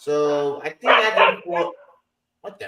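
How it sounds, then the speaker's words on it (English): A pet dog barks during an online panel call, giving a few loud, close barks and yips that overlap the voices of people talking. "That's my dog. That's my dog."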